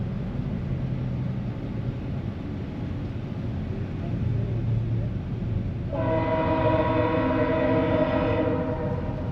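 A mixed-cargo freight train with one engine rumbles past steadily at Blackhawk Bridge, and midway a loud, sustained multi-tone horn blares over the rolling noise before holding until the end.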